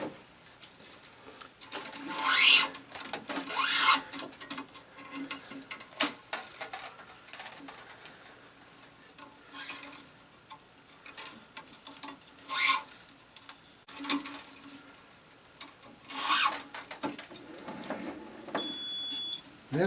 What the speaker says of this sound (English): I'm going to pull tension on this cross, remove my clamp, straighten my strings.